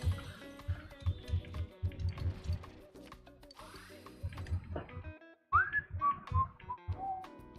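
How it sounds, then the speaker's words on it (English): A person whistles a wandering tune close into a microphone during a video game session, the notes bright and sliding, with brief gaps and some talking and game sounds underneath. "Sorry, I forgot I'm not supposed to whistle into microphones."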